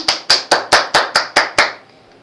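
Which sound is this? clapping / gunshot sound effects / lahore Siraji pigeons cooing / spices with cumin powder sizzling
clapping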